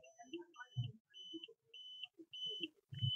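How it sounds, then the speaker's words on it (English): A satellite finder beeps while an LNB is aligned on a dish, giving a steady high tone in repeated beeps that lengthen as the clip goes on, with soft low knocks and faint voice sounds in between. "You can hear the beep."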